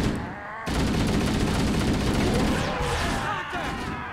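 Sustained gunfire in the shooter Halo CE, a dense rattle of rapid shots running almost without a break and loud in the mix after a short quieter opening.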